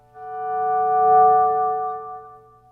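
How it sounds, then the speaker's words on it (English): A single sustained electric guitar note plays through a tape echo delay with a slight chorusing wobble, swelling smoothly and fading over about two seconds, clean and alone without speech. "so it's a really pleasing echo sound"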